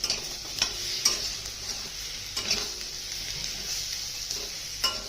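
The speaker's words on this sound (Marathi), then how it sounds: "ते पण परतून घ्यायचं छानपैकी असं." Green brinjal masala with ground green chilli paste is stir-fried in a pan, a soft steady sizzle broken by several sharp scraping strokes of a spatula against the metal at uneven intervals, close and without talking.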